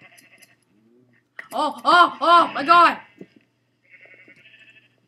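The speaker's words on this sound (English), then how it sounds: "Shearing the sheep." Several harmonic sheep bleats from Minecraft, heard as shears cut the wool, come one after another in a loud cluster midway through, with brief speech before and after.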